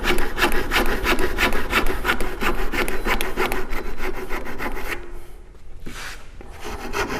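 A hand saw cuts through wood in a woodworking practical, steady rhythmic back-and-forth strokes filling the first five seconds, then a brief pause and a couple more strokes, loud and close with no talking.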